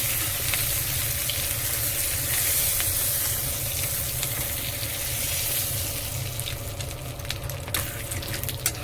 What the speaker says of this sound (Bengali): চিংড়ি মাছ ভাজলে একটু তেলটা গেঁজা গেঁজা হয়ে যায়